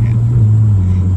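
A Ferrari rolls slowly over a speed bump, its engine giving a loud, steady low rumble with a slight pitch drop partway through, close and continuous, with no voices.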